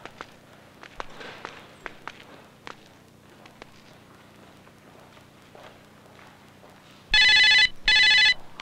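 Telephone ringing in a Tamil film scene, two loud electronic ring bursts near the end after a stretch of quiet footsteps and light movement.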